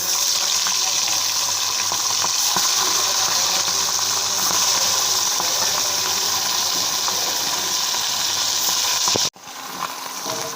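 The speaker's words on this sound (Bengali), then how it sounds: "কড়াইতে আমি তেল দিয়ে দিয়েছি তেলটা গরম হয়ে গেছে মাছগুলো কিন্তু বেশি করে বেশি কড়া করে ভাজবো না হালকা করে ভাজবো" Hilsa fish fry lightly in hot oil in a wok, a loud, dense, steady sizzle that holds evenly for several seconds before cutting off abruptly near the end, then resuming more quietly.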